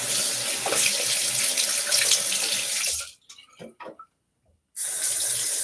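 A tap runs loudly into a sink, with the water rinsing off during a shave. It stops abruptly for about two seconds of near silence and faint drips, then gushes again.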